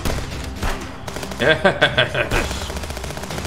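Rapid bursts of gunfire from enemies in the game Contraband Police, a checkpoint assault, crackle in a dense cluster midway through, with a voice speaking briefly before and after.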